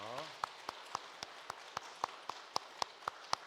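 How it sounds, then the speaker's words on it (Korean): A church congregation at a Sunday service claps to welcome newcomers, heard as sparse, evenly spaced claps in a steady rhythm after a brief voice at the start, fairly faint in the sanctuary. "우리 새로 오신 우리 교우님들 열렬한 박수로 환영해 맞도록 하겠습니다."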